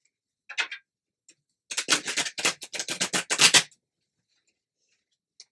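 Cards being shuffled on a table, a brief riffle then a longer burst of rapid flicking and tapping, close and fairly loud, with quiet pauses around it.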